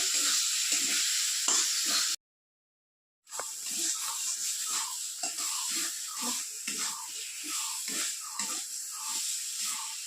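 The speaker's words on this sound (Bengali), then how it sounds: "মশলাটাকে ভালো করে কষিয়ে নেবে" Spice paste with a half spoon of sugar sizzling and being stirred in a kadai, a bright continuous frying hiss with rhythmic scraping strokes, broken by a short silent gap before the stirring resumes.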